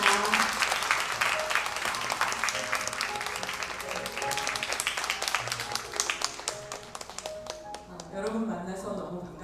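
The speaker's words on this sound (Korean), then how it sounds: "우리 정정숙 박사님 뜨거운 박수로 환영하시겠습니다" Warm audience applause greets a speaker at a women's conference, with dense clapping and sharp individual claps over talk and cheering that thins out near the end.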